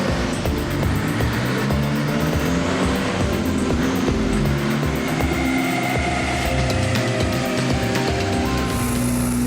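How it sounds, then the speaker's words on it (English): A Volvo 240 Turbo revs hard on a dyno test bench, its engine note climbing and dropping as it changes gears, loud and steady throughout with a busy mechanical whine over deep droning rumble. "Martin speeds up the Volvo. He accelerates normally and changes gears"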